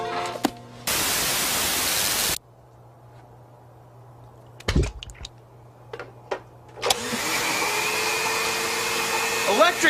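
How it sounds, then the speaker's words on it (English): Electric blender motor giving off harsh, static-like electrical noise: a loud burst of hiss, a stretch of quiet with clicks and thumps, then a steady buzzing motor drone. "Electric motors, like the ones in blenders, can make electrical noise that looks and sounds just like static."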